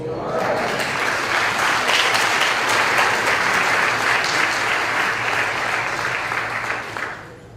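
An audience at a distinguished speaker series gives President Faison a loud, sustained round of applause that fills the hall evenly for several seconds before tapering off.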